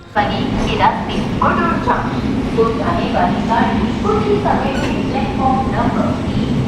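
Inside a moving passenger train from Dharmavaram to Narasapuram, train 17248, a loud steady rumble and rattle of the carriages runs continuously while someone talks over it throughout.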